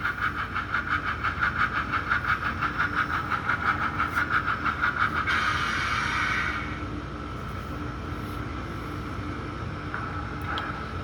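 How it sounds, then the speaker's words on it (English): Westside Model Co GS-4 model steam locomotive in Southern Pacific #4450 livery running along track with coaches, giving a steady rhythmic chuffing hum that pulses evenly, then shifts to a smoother, quieter running tone partway through, with no talking. "I love this locomotive. This locomotive is actually really cool. It runs well, it runs smooth, it runs quiet"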